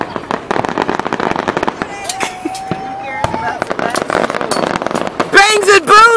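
Fourth of July fireworks in Nashville burst in a rapid string of sharp bangs and crackles, near and loud, while a person talks and cheers over them and a whistling rocket rises midway.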